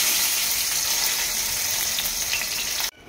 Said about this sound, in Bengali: এখন এটাকে আমি ভাজা হতে দেবো, ভালো করে ভাজা হতে দেবো